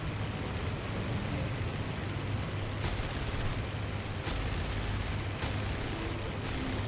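Aircraft machine guns firing in the IL-2 Battle of Moscow flight game, several short bursts cutting through a loud, constant engine roar.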